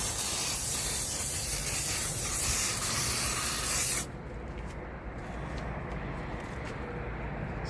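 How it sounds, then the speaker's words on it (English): A can of insect spray hisses in a laundry-pantry, one long continuous loud spray for about four seconds that cuts off abruptly, followed by quieter rustling and background hum. "Spraying it with this."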